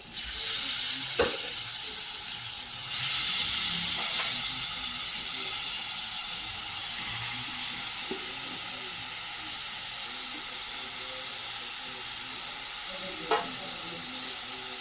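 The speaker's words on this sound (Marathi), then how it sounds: "आणि आता यामध्ये घालायचं आहे आपल्याला खिसून घेतलेला मुळा" Grated radish going into a hot pan with oil and turmeric for a Maharashtrian muli bhaji, sizzling loudly in a steady hiss that eases slightly over time, with a few faint utensil taps.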